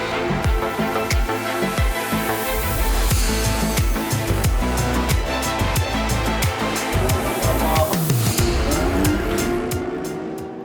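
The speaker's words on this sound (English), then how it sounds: "Alex Lynn in the 97 Aston Martin, recovering from his gravel trap excursion, now up to third place ahead of Davide Rigon in the 71 Ferrari" Race cars at the 2019 6 Hours of Fuji endurance race, loud engines roaring and revving close by with repeated gear shifts and a fading pass near the end.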